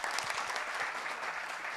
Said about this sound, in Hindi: जरा जोर से एक बार ताली बजा के बताओ कितना जोश है।